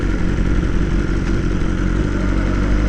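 A BMW S1000R motorcycle with a Pro Race exhaust rumbles loudly and steadily up close, its engine note thick and throbbing with a slight mechanical clatter and no talking.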